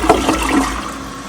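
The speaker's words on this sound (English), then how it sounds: "Let's see if it flushes." A newly installed toilet flushes in a bathroom, a loud close rush of swirling water that surges at the start and then tapers off into a softer draining wash, with no talking over it.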